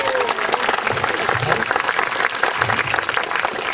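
Outdoor spectators at a jester tournament at Muncaster Castle in the Lake District break into loud, continuous applause: dense crowd clapping that stays steady for the whole stretch, with faint voices mixed in.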